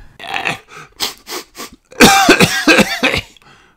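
A reader's voice imitates coughing and sniffling for a Peppa Pig audiobook: a run of short, close coughs and sniffs, then a louder, denser cluster of harsh coughs before it trails off.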